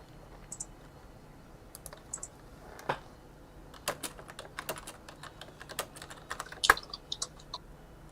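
Someone types a chat message into Zoom on a computer keyboard, irregular bursts of close, crisp key clicks separated by short pauses, with no speech.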